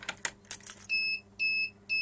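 An Arduino-based optical door lock monitor alarm sounds three loud, sustained electronic beeps in steady bursts, after a brief clatter of handling noises.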